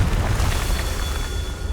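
A Confringo spell blast in Hogwarts Legacy, a loud, deep booming explosion that rumbles continuously through the short moment with no voices.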